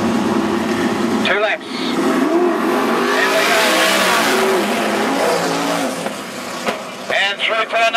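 Sprint cars in a heat race roar along the back straight, a loud continuous blend of revving engines that swells and fades as the pack passes, with a commentator talking over it.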